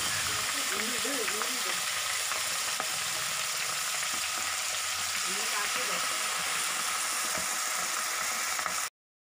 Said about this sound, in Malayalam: ഓയിൽ നന്നായി തിളച്ച് വന്നിട്ടുണ്ട് ഇനി ഇതിലേക്ക് കാട പതുക്കെ ഇട്ട് കൊടുക്കാം